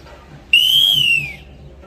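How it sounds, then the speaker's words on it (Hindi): A man whistles one sustained, fairly loud note that rises slightly and then slides downward, lasting under a second after a quiet start, heard alone with no talk. "जरा करके दिखाए, सीटी बजाए।"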